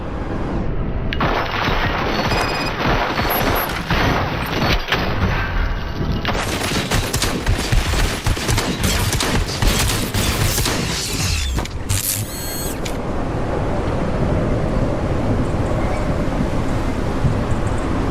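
Rapid, dense gunfire roars through a firefight in RoboCop: Rogue City, with loud, continuous bursts and heavy impacts over mechanical clatter, followed by a steadier roar of fire.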